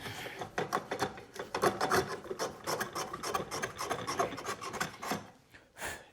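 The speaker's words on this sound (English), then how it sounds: "This is a shoulder plane." A shoulder plane takes small shavings off the cheek and shoulder faces of a wooden tenon, giving a steady run of short, close, rasping strokes that follow one another quickly with no voices over them.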